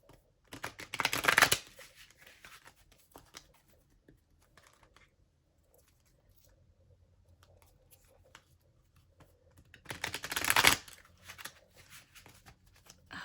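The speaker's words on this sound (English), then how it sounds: "These cards are a little stiff, so they take a little bit of extra work to shuffle." Two short, crisp bursts of stiff playing cards being riffle-shuffled, separated by a long, nearly silent pause.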